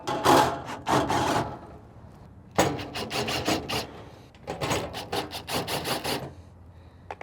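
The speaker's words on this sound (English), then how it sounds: "We will undo these 6 screws located on the bottom of the hopper." Screws being undone on the underside of the hopper of a Camp Chef XXL Pro pellet grill, heard as bursts of scraping, clicking tool and metal handling noise in two main busy stretches, close and fairly loud, with no talk.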